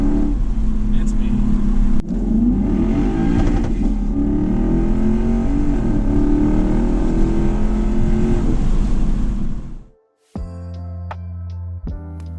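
A 2008 Lexus IS F sedan's engine roars loudly and steadily for about ten seconds, then cuts off abruptly, followed by a brief tonal hum and a sharp click near the end.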